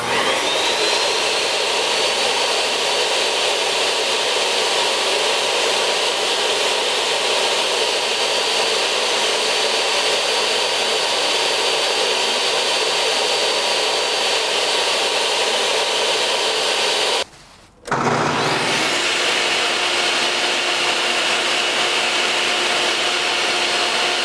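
SawStop or Bosch jobsite table saw running: a loud, steady, high-pitched motor whine with broadband hiss that holds for about seventeen seconds, cuts off abruptly, then spins back up to full speed, with no talking.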